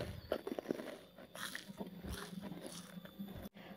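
Crisp bites into a jumbo deep-fried cromboloni pastry, a few close crunches and chewing sounds in short bursts over quiet background, no speech.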